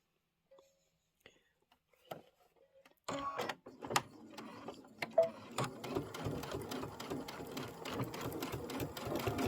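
A sewing machine starts stitching fabric for a Kimberbell Spring Showers quilt piece after a few light taps and handling noises, then runs in a steady, close, continuous whir of rapid needle strokes until the end.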